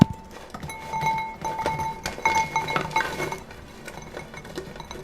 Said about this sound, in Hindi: तो चलिए हमारे हलवाई जैसे खस्ता शक्करपारे बनकर तैयार है। तो आप इसकी आवाज़ सुन सकते